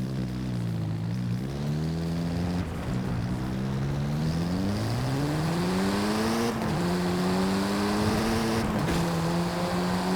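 A tuned 700-horsepower Volkswagen Golf R in Forza Horizon 5 drones steadily under load, its deep, bassy engine note rising through gears with brief dips at each shift, loud and continuous.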